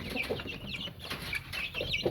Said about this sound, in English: And here is some chicks